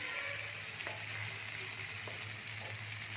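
Butter paneer masala fries in butter in a pan, giving a soft, continuous sizzle with faint crackles and an occasional light clink, heard alone without speech.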